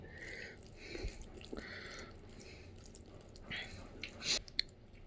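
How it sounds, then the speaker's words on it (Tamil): Cooked rice mashed and mixed by hand with dal, soft wet squishing and squelching in short irregular bursts, faint and close, with one sharper splat near the end. "சோறை நல்லா பிசைஞ்சுக்கிறோம் பருப்பு ஊற்றி"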